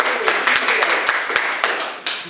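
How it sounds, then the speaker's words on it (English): A small audience claps for an artist at a palette-knife oil painting demonstration, a brief run of crisp, fairly even hand claps close by. "a big round of applause for Judy"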